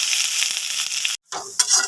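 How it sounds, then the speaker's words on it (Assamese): Finely chopped onions frying in hot oil in a pan for Assamese potato chops, a bright steady sizzle with a brief silent break, then the hiss resuming with a few stirring clinks. "আহি তেল গৰম কৰি কাটি ৰখা পিঁয়াজখিনি ভাজি ল'ম ৰঙচুৱা পৰাকৈ"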